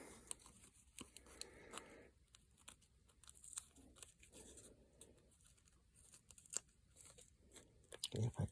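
Scissors snip paper strips for a mixed-media weaving project, producing crisp cuts and crinkles up close, with paper rustling and quiet speech in between.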